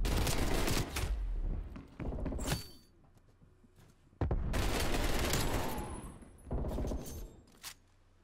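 Semi-automatic gunfire from the Black Ops Cold War video game comes in loud bursts of rapid sharp shots, separated by quieter gaps, with a few later isolated cracks.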